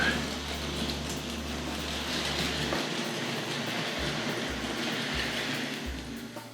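Hornby Dublo 8F model locomotive with freight running into sidings, a steady close rolling rumble with low motor hum that cuts in and out in short bursts as it moves over isolating points.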